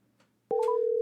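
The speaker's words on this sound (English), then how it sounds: "My phone's ringing." Phone ringing on an outgoing call: after a brief hush, a clean, steady ringing tone starts abruptly and holds at an even loudness until the end.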